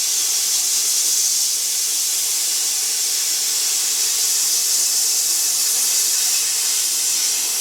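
Steady, loud hiss of abrasive blasting on a car part before powder coating, continuous for several seconds with no pauses.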